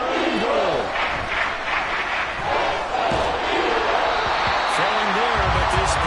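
Loud football stadium crowd roaring at a goal-line stand, a dense sustained wall of cheering and yelling with a commentator's voice running over it.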